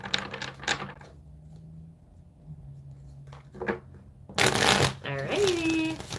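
Tarot cards are shuffled in two quick, crisp riffling bursts close by, with someone talking before and between them.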